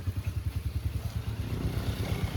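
A motorcycle pulls away on a mountain road in the Gangotri and Harshil valley after rain, its low engine thumping in a quick regular rhythm that smooths into a steadier drone.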